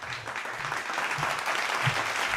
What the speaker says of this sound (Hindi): ज़ोरदार तालियों में इस्तक़बाल कर लीजिए